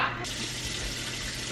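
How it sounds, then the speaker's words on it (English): Water runs steadily from a tap, a continuous hiss that stays even in level throughout, with no voices over it. "now I'm gonna start and just fill this with water"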